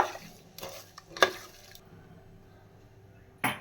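A spoon stirs chili powder and sambar powder into mung bean sambar in a pot, making a few soft scraping and wet squishing strokes, close and fairly quiet, with a brief clink at the end.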